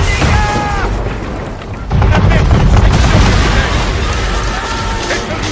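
Heavy booming cannon blasts in an Assassin's Creed III naval battle, with a manor firing on the ship, over a dense, loud roar of battle noise, with a sharp louder burst midway and a continuous rumbling din.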